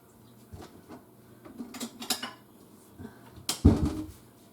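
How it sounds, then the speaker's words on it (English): A small spoon and bowl are handled in a quiet kitchen, making scattered light clinks and taps, ending in a slightly louder clatter near the end. "let me get a little spoon, a little bowl"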